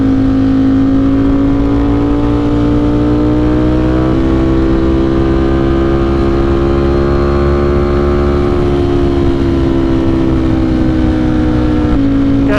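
A Ducati Streetfighter V4S motorcycle ridden on a cold day with a quick shifter fitted, its engine a loud continuous drone whose pitch climbs and then drops sharply at each quick gear change, heard alone.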